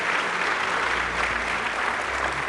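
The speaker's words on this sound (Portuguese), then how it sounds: "Dá uma salva de palmas para Jesus" A church congregation gives a round of applause for Jesus during a sermon, a full, continuous roar of clapping from many people with a low rumble of room noise beneath it, steady from start to finish.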